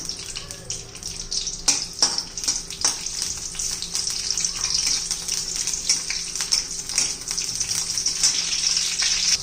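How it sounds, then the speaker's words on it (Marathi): Green chillies and garlic frying in hot oil give a continuous, crackling sizzle with a bright hiss, punctuated by a few sharp pops and stirring clicks, fairly close and without speech. "आणि तेल गरम झालं की हिरवी मिरची आणि लसूण परतून घेऊया."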